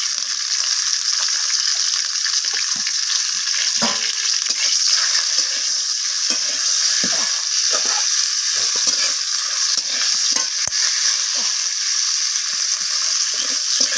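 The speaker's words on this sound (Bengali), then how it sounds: "তো ফুলকপিগুলোকে আমি লালচে করে ভেজে নেব।" Loud, steady sizzling of cauliflower frying in hot oil with turmeric and salt, a constant crackling hiss with occasional stirring clinks.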